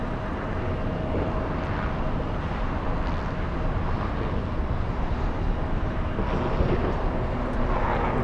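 Steady, close jet roar from a Lufthansa airliner passing at Los Angeles International Airport, continuous broadband rumble with wind buffeting and no talking.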